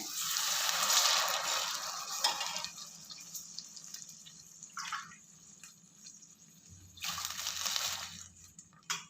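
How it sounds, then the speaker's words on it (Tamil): Water splashes and gushes into a cooking pot in a couple of pours for ghee rice, with quieter trickling between them and a faint low hum underneath. "தண்ணி விட்டுக்கிறேன்"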